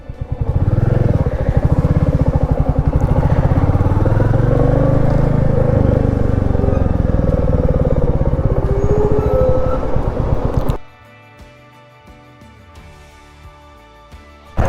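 A Royal Enfield Meteor 350 engine runs loud and close with a steady thumping throb and road rumble for about eleven seconds, then cuts abruptly to a faint, quiet background.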